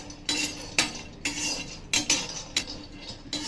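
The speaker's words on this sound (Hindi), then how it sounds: "अब मैं काजू बादाम को डाल के रोस्टेड कर लेती हूँ।" Cashews and almonds roasting in a pan are stirred with a metal spoon, giving sharp scraping clinks and clatters at uneven intervals against a quiet background, with no talking.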